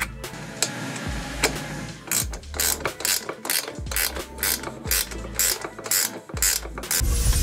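Ratchet clicking as a washer and nut are tightened onto a welded slotted tab on a Mega Moto 212 mini bike kit frame, a run of repeated sharp metallic ratcheting bursts, close and loud, with no talk.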